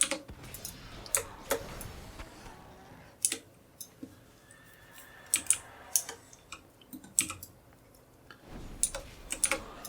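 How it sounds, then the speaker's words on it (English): Computer keyboard clicks come close and quiet in irregular bursts of sharp taps, with short pauses between flurries of typing. "Apologies for the keyboard clicks."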